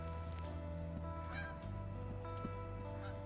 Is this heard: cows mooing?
no